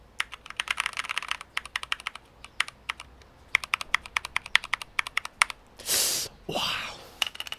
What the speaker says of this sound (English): This is Keychron K4. I'm using brown switch, so the sound would be like this.